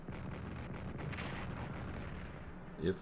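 Artillery fire in the World War I strategy game Strategic Command: World War I, a steady low rumble of distant barrage with a single louder burst near the end.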